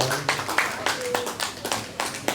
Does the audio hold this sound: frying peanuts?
no